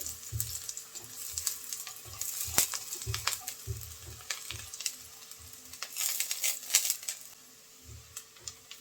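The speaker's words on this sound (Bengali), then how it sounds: "মিহি করে কাটা রসুন কুচি দিয়ে দেবো রসুনটা হালকা একটু ভেজে নেব" Finely minced garlic frying lightly in a pan for tomato egg soup, a soft continuous sizzle broken by irregular clicks and scrapes of stirring, moderately quiet and without speech.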